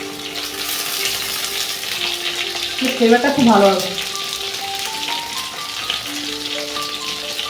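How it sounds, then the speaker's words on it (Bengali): Pineapple kebab pieces frying in ghee in a pan, a loud steady sizzle throughout with a brief burst of spattering near the middle, while a person talks over it. "একটু ভাজা হয়ে গেছে, উপরটা একটু ঘি ছড়িয়ে দেবো"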